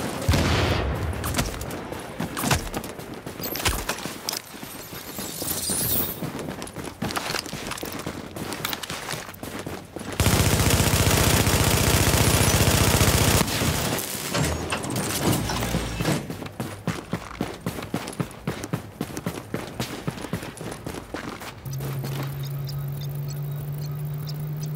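Gunfire in the online battle game Last Stand crackles in dense, rapid bursts, with a stretch of louder continuous firing and mechanical clatter before it thins out to a steady hum.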